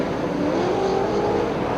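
Grand National stock cars roar around Liverpool City Raceway in a 1985 race, a continuous loud engine drone with a faint rising whine, heard from trackside without any talking.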